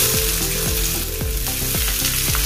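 Shredded cabbage hits a wok of hot oil with toasted cumin seeds, a steady loud sizzle and crackle with repeated scraping strokes of a spatula every half second or so, no voices.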